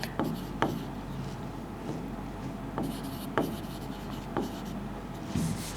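Marker or chalk scratching across a board during a Class 7 fractions and decimals maths lesson: several short, separate writing strokes, fairly close, over a low room hum.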